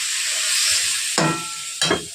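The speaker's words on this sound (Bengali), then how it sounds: "তাহলে একটু জল দিয়ে কষে নেব।" Spice paste with tomato and Kashmiri chilli powder sizzles in a pan as a little water goes in, a steady hiss broken by two sharp bursts of spitting and stirring.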